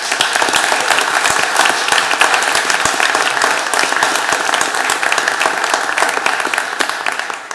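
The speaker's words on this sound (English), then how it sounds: "ask for one more round of applause for our firefighters in this room." Sustained applause at a city council meeting honoring firefighters, a room full of people clapping steadily and briskly for several seconds, dense and close with no speech over it.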